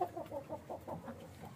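A rooster from Jhelum and hens cluck steadily while pecking at fresh greens. A run of short, evenly spaced clucks comes from close by and is fairly faint, with no talking.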